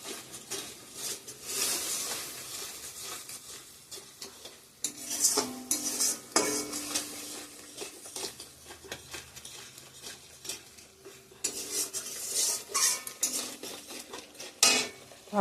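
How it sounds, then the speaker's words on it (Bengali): Chili and cumin powder masala stir-fried in a pan, with a spoon repeatedly scraping and clinking against the metal over a faint sizzle in irregular bursts, no one talking. "লঙ্কার গুঁড়া, জিরার গুঁড়া। এটা এখন ভালো করে কষিয়ে নেব।"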